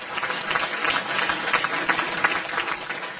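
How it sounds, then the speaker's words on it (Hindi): Crowd applause rolls through the hall at the Azm Awards ceremony, a sustained, moderately loud patter of many hands clapping with slight surges, no voices heard over it. "ताली।"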